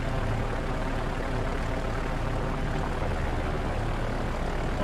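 Dauntless dive bomber propeller engines in a Pacific naval battle game, a loud, steady, unbroken drone that holds at one level with no talk over it.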